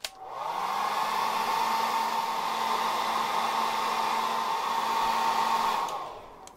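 A heat tool warms the lower legs of a Mythic Legions action figure to loosen the knee joints, giving a steady, close blowing whir that holds for about five seconds and then cuts off.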